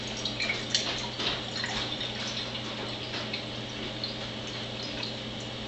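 Tap water being poured, a continuous splashing, trickling flow with faint dripping detail, steady and fairly close throughout.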